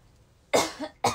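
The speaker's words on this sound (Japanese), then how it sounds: "ごめんね、ちょっと咳しちゃった。" Two sharp coughs, close and loud, the second following about half a second after the first, with quiet in between.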